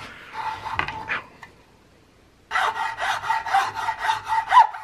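A fine rasp or file smooths the wooden gunstock beneath the cheek piece, with a few short scrapes, a quiet pause, then a run of about eight rhythmic, close, rasping strokes.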